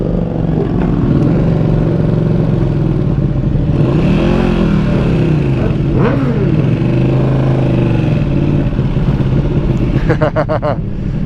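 A 2020 Ducati V2 motorcycle rumbles loudly and steadily while being ridden, its engine pitch rising and falling as it revs, with rattling clicks near the end.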